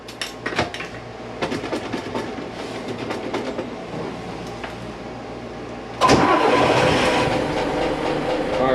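The port diesel engine of a 2000 Pursuit 3400 boat cranks with sputtering bursts, then catches and roars to life loudly, settling into a steady heavy rumble.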